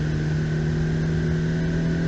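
Ferrari F8 Tributo engine held at full throttle on the wet Monza circuit, a steady loud droning tone heard from inside the car, unbroken for the whole moment.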